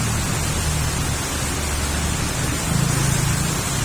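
Steady, dense rain hisses continuously, with a low rumble underneath and no voices.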